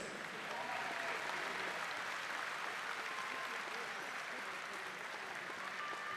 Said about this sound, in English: Can we please have a round of applause for these 2 fighters?